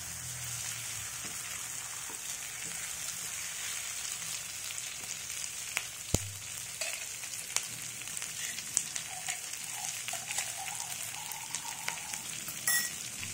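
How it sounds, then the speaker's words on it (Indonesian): Plump chillies are stirred into a spice paste frying in a pan, giving a steady close sizzle with scattered soft scrapes and clicks from the stirring, no voices. "Nah, aku aduk sedikit ya, biar tercampur bumbunya sama cabai gendut ini."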